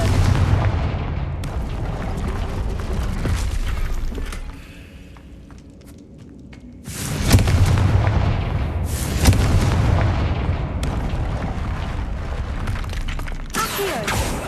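Repeated heavy blasts and booms from the Confringo fire spell in the Hogwarts Legacy video game, loud bursts with rumbling tails that recur through most of the stretch, with a brief quieter lull in the middle.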